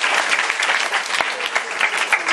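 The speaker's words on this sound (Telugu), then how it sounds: "చప్పట్లు కొట్టి దేవుని నామమున మహిమపరచుదాం." A church congregation at an Andhra Pradesh Sunday service claps together in a loud, dense, continuous burst of applause that lasts the whole clip, with no voices standing out.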